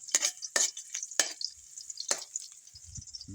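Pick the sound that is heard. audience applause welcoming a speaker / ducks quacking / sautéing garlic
sautéing garlic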